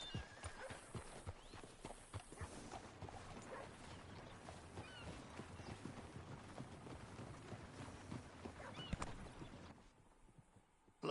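Horse hooves clip-clop at a walking pace in Red Dead Redemption 2, with a brief whinny. The steady hoofbeats run quietly for most of the clip and fade near the end.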